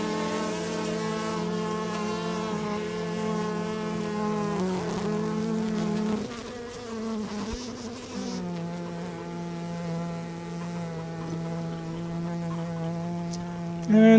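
Honeybees from a package hum in a dense, continuous buzz close by as frames are placed into a hive box, with a few shifts in pitch and intensity and no talking.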